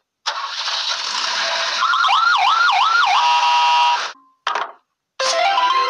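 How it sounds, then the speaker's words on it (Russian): An engine revs up, then a police car siren warbles rapidly up and down over it, close and loud, before stopping and giving way to short electronic blips. "Полицейская машина."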